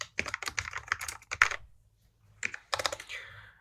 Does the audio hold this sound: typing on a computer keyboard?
yes